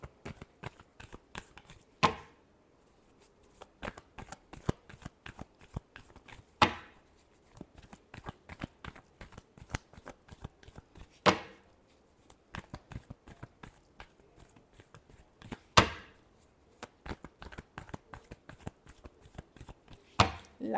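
Tarot cards are shuffled by hand in a quiet room, a long run of soft, rapid riffling and patting with sharper snaps recurring every few seconds.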